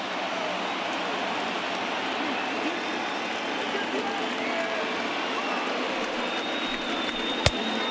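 A stadium crowd of over 39,000 cheers in MLB The Show 20, a steady, dense roar that holds at one level throughout, with a single sharp click near the end.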